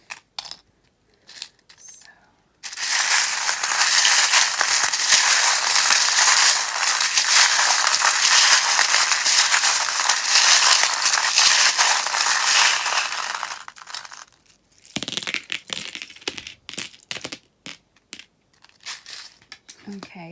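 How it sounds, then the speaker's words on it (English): Tarot charms and dice are shuffled in a steady, dense rattling clatter of small hard pieces for about eleven seconds, close and loud, then a few scattered clicks and taps follow. "If you don't like the sound of the charms being shuffled"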